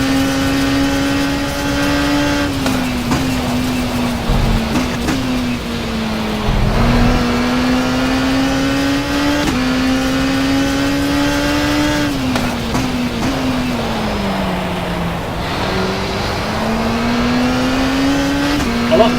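A race car engine in the WTCC racing video game revs up and down through repeated gear changes, a loud, close, steady whine climbing and dipping across the lap.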